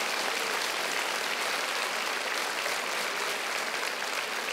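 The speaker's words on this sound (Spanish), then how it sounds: "Dele un aplauso fuerte al Señor." A congregation claps loudly together during a church service, a dense, steady applause that fills the space without pause.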